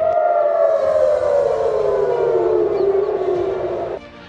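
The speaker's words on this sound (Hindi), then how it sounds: "तेल अवीव रॉकेट हमलों की चेतावनी देने वाले सायरन से गूंजने लगा।" A rocket attack warning siren wails over Tel Aviv, one long loud tone sliding slowly downward, steady and sustained, then cutting off abruptly near the end.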